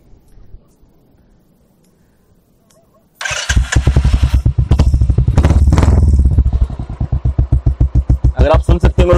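A motorcycle starts up near a quiet background and its exhaust through a BEAT silencer booms loudly, revving and then settling into a deep, evenly pulsing thump at idle.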